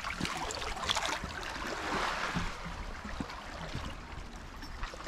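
Sea water surges and washes in a hidden hollow beneath a cliff on a coastal path near Whitehead, County Antrim, as a steady rushing roar that swells slightly, with no voices.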